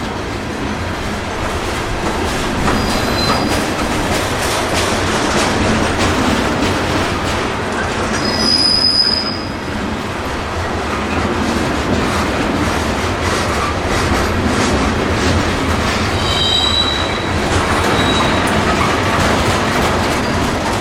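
A long Florida East Coast freight train of gondolas and hoppers loaded with sand or crushed lime rock rolling steadily past, loud continuous rumble and clatter of wheels with occasional high metallic squeals.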